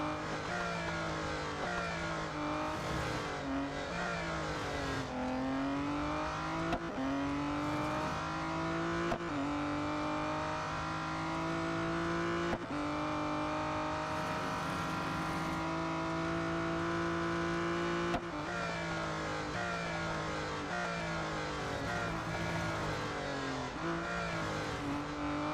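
Race cars in the mobile video game Real Racing 3 run their final lap, their engines whining and climbing in pitch through repeated gear shifts, with brief dips between gears; steady, loud and continuous, with no voices.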